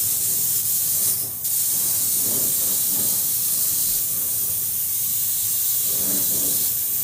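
Steady spray-gun hiss while a remote control is spray-painted, with a brief dip near the start and softer puffs of air used between passes to dry the paint, continuous and close.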